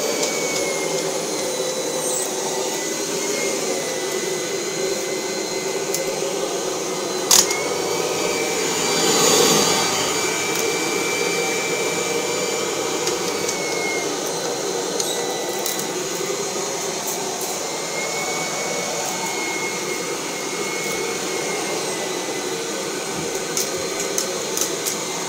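A Kirby G4 vacuum cleaner runs continuously, a steady loud whine and rush with barely any change throughout.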